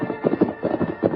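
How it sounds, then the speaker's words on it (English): Horse hoofbeats in a radio drama scene, a quick clip-clop rhythm of several hooves on hard ground, fairly close and clear, with no voices. "he heard the faint echo of approaching hoofbeats"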